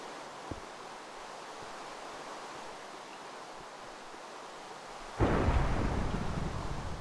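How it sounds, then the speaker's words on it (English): Thunder in the Minecraft video game breaks in suddenly as a loud, rolling rumble after a long stretch of steady, hissing rain-like ambience, then keeps growling to the end. "I do not like thunder."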